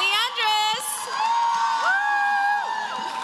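A packed convention crowd at New York Comic Con screaming and whooping, sustained shrill cheers swelling and overlapping throughout, loud and continuous.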